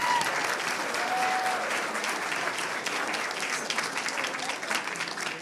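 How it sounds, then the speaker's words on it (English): Audience applause at a school board meeting, steady, dense clapping that fills the room for the whole stretch and fades slightly toward the end. "Let's give them another round of applause."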